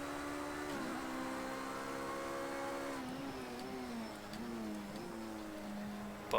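In Project Cars 2, a Ferrari 333 race car screams at high revs, then drops through quick downshifts and blips into a lower, steadier drone, loud and close, with no one talking.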